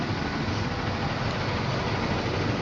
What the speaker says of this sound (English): Hope you can hear me over the engine, but I can't really turn it off yet because it's cooling itself down.